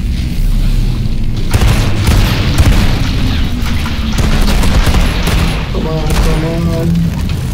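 Gunfire and explosions in the shooter video game Outriders during a boss fight, a steady dense barrage of booms and bursts throughout, with game voices briefly audible near the end.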